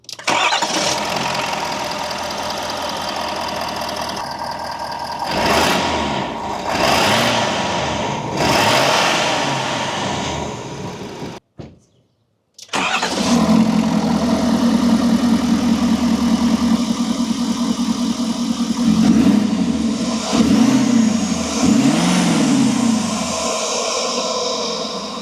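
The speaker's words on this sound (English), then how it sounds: "let's go ahead and turn the truck on to see if we hear any difference in the amount of noise the intake makes" A 2025 Ford F250 Super Duty pickup fitted with a K&N Next Gen cold air intake starts and idles loudly up close, with a brief cutoff to near silence before the engine starts again, then revs in a few rising and falling surges.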